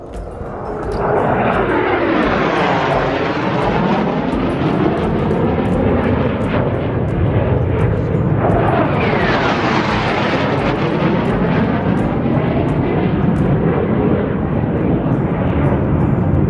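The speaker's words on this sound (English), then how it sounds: "Oh, Oh, plane coming." A propeller airplane roars loudly overhead in the Lake District, its engine drone rising and falling in pitch as it passes close by and then passes again.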